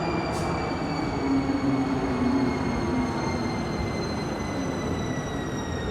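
A Škoda Varsovia train of the Warsaw Metro rolls steadily through Rondo ONZ station on a technical run, its rumble and rail noise sustained and loud, with a faint squeal of wheels on the track and no voices.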